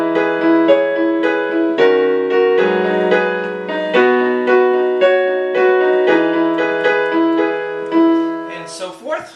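Acoustic-style piano rendition of The Killers' "When You Were Young", sustained chords and a melodic line played steadily and close, with a brief noisy rustle at the very end.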